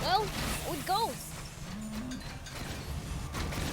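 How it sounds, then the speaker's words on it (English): A cow moos twice in quick succession at moderate distance, with rising, wavering calls near the start, followed by faint creaking and outdoor rumble. "Wait, was that a cow I just heard?"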